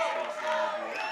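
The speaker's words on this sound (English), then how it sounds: "a very energetic Mexico crowd on the third base side" An energetic Mexico fan section along the third base side at a ballpark roars and cheers steadily, voices massed together in a continuous bright crowd noise.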